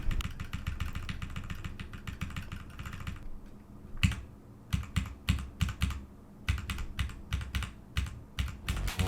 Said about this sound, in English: now I'm going to press 1 on my keyboard